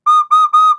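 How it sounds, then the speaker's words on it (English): A simple recorder plays three short, pure, identical notes in quick even succession, bright and close, with brief gaps between them and nothing else heard. "I used just a simple recorder in a score."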